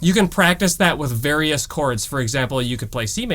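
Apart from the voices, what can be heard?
No everyday noise stands out behind the speech.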